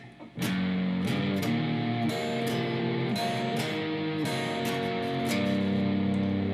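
Electric guitar riff from a blues song, played with some distortion. Choppy strummed chords and muted string scratches follow in a shuffling rhythm, loud and close, with no talk.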